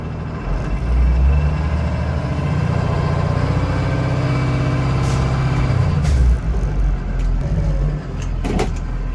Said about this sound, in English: So instead I'm kind of power braking and seeing if I can get a launch.